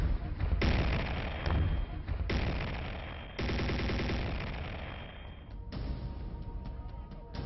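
Rapid, loud bursts of machine gun fire crackle in repeated volleys at the India-Pakistan border in Jammu and Kashmir, with a voice speaking over parts of the shooting.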